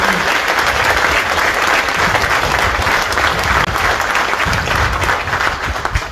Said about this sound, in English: please join me in a big round of applause for you for the Marines.